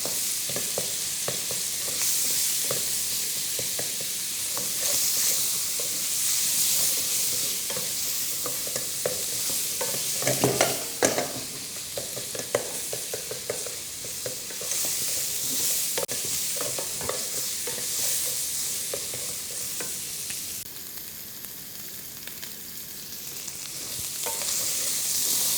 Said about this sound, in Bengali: এটা তেলের যে ময়েশ্চার আমরা বাটার দিয়ে যেটাকে অ্যাড করলাম সেই জিনিসটাকে ভাজা ভাজা, যেটাকে বলি ফ্রাইং, এইভাবে করে নিতে হবে।